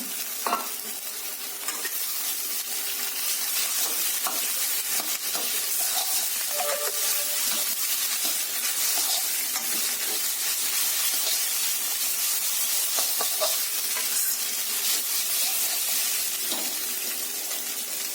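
Boiled chow mein stir-fried street-food style with fried egg and chicken, green chillies in the pan, giving a steady close sizzle and hiss with repeated scraping and tossing strokes throughout, no voices.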